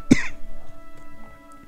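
A single sharp, close cough from a character in the video game Maggie's Movies, followed by a faint throat-clearing rasp over quiet game background hum.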